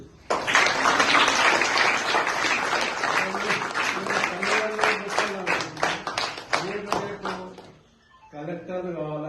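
An audience claps through a girls' school notebook-distribution event in Makloor, a dense, sustained round of applause with voices mixed in that thins out near the end before speech resumes.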